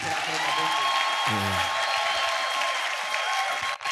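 A church congregation applauds and acclaims the Lord during a sermon, sustained clapping and cheering throughout, with a brief low voice near the start and a sharp cutoff at the end.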